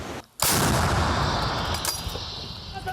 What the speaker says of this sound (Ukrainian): Кілька ударів американською гарматою М119 і російська піхота вже нікуди не рухається.